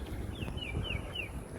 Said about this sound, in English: the sounds of birds, if you can hear in this video, is really soothing